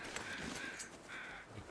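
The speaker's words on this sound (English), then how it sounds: "I can hear crows," Crows caw outdoors along a coastal highway, a few harsh calls scattered across the moment, fairly distant and soft against steady wind and ambient noise.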